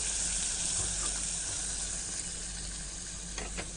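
Onions for a ghee and coconut milk biryani sauté in a pan with a steady, close hiss of frying and a few faint stirring clicks near the end.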